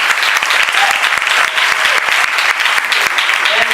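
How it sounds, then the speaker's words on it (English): Lively audience applause at a live music performance at a university, loud and continuous with a fast, dense patter of claps and a few voices faintly mixed in. "A big round of applause."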